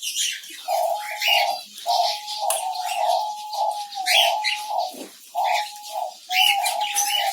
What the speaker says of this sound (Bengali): এটাই হচ্ছে আমার ফিঞ্চ পাখির সেট আপ